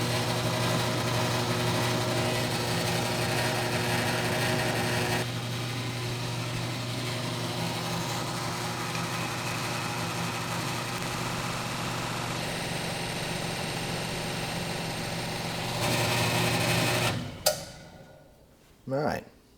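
A drill bores a hole with a resharpened, oiled 3/64 inch bit, a steady motor whine that runs for about seventeen seconds, surges briefly, then cuts off, followed by a short clunk.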